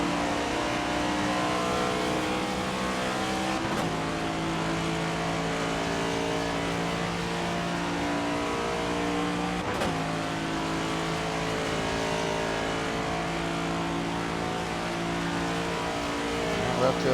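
Racing engine in the NASCAR 25 video game, a Next Gen car at Talladega, droning steadily and loud as it climbs through the gears, with brief dips at shifts around four and ten seconds, a voice talking over the engine.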